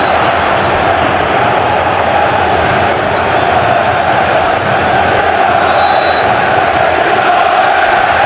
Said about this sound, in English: Early Arsenal possession is disdainfully treated by a pumped-up Spurs crowd.